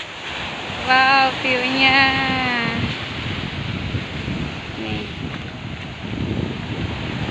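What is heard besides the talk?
waves and wind at the beach, Air Sanih, Buleleng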